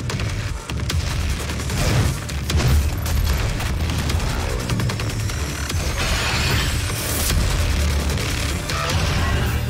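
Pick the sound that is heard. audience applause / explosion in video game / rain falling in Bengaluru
explosion in video game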